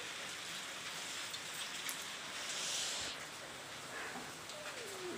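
Rain falling steadily onto a roof and surfaces around a house kitchen during a storm, a soft, even hiss of drops with brief rustles, fairly quiet and without talk.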